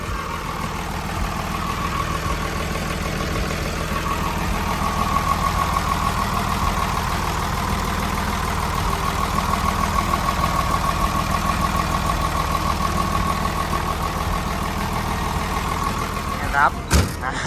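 A Komatsu WA150-3E wheel loader's six-cylinder turbo diesel engine idles steadily with a constant low rumble and hum, running close by throughout, ending with a brief clatter.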